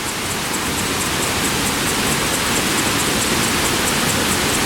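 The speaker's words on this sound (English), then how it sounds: "this is just a small falls flowing from the river that we just crossed on the bridge" Small waterfall in Iguazu National Park, water tumbling off a hard basalt ledge below a river crossing, gives a steady, dense rushing wash that stays even and fairly loud throughout with no voices.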